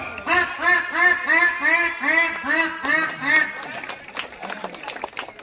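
A schoolboy's voice mimics a duck, producing a rapid run of nasal quacks in a steady rhythm, fading into scattered noise at the end.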